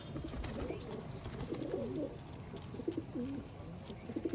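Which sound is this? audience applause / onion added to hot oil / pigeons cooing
pigeons cooing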